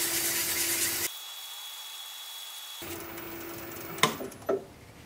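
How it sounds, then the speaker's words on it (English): A wooden Christmas mushroom ornament spins on a lathe at low speed while 1200-grit sandpaper is held against it, giving a steady faint hiss with a brief pause and a few light knocks. "So I guess I'll sand it. I have this, I think it's 1200 grit."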